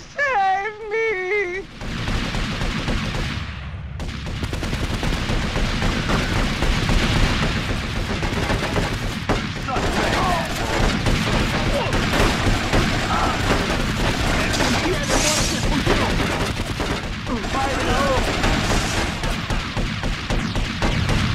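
Heavy gunfire in GTA Vice City Stories: a dense, continuous run of shots and booms lasting about twenty seconds, loud and close, following a short opening bit of talk.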